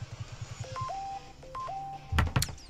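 Electronic phone beeps in Pokémon Ultra Sun: two short sequences of tonal chirps rising into a sustained tone, followed by a couple of louder percussive game effects, over soft background music.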